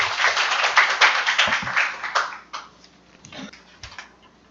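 Audience applause welcoming a speaker at a Korean forum on widening health inequality: dense, close clapping for about two seconds that thins into scattered claps and fades.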